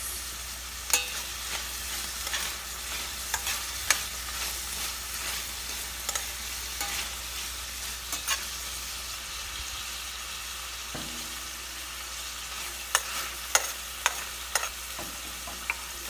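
Two cloves of garlic, thinly sliced like chips, sizzle in a pan for stir-fried vegetables, a steady close frying hiss broken by scattered clicks and scrapes of stirring.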